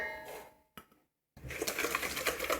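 A whisk beats eggs and sugar in a bowl for a soft chocolate cake, in a steady, rapid clatter. It breaks off for about half a second with one sharp tap, then resumes busier and louder.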